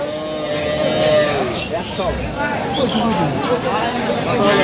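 Cows low repeatedly amid a busy cattle market at Aftabganj, Dinajpur, with several people talking and a steady crowd murmur throughout.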